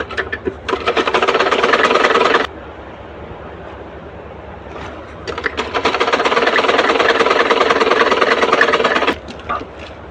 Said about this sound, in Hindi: इस पर सिलाई लगा देंगे।